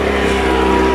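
A garden leaf blower engine runs close by without being revved, giving a steady, loud, droning hum for about a second.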